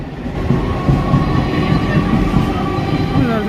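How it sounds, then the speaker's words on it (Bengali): A train pulling away from a railway platform, loud continuous rumble of wheels and carriages rolling close by throughout, with faint background voices. "ট্রেনটাকে টাটা দাও ট্রেনটাকে টাটা দাও চলে গেল"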